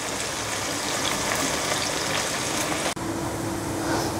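Chopped onion, one large onion, frying in hot oil with cumin seeds in a karahi, a steady close sizzle running throughout with a brief dip near the end.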